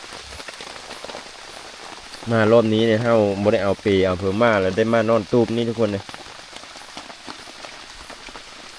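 Heavy rain hammers a bamboo hut in a steady, close, hissing downpour that lasts throughout. Someone talks over it for several seconds in the middle.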